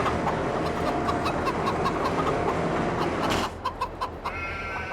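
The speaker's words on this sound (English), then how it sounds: "Well, the chickens are looking okay." Chickens in Farming Simulator 22 cluck and squawk in a steady busy chorus over a dense farmyard ambience, with a few louder distinct clucks standing out near the end.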